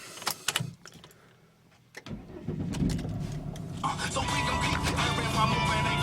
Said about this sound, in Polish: Także ja może teraz odpalę samochód.